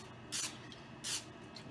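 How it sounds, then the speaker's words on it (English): Cooking spray hisses from a can onto air fryer buffalo chicken egg rolls in two short, close bursts about half a second apart, quiet and alone. "let's go ahead and spray these"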